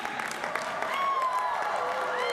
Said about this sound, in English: Cheer if I'm right!